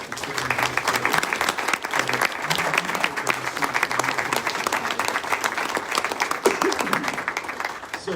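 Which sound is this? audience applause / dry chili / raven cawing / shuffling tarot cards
audience applause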